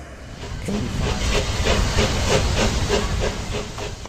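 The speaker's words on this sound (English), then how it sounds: "what we call a saturated steam locomotive, which all that did was just run on the steam out of the boiler" A narrow gauge saturated steam locomotive vents a loud, sustained hiss of steam, rising and steady throughout, with a rhythmic chuffing pulse underneath.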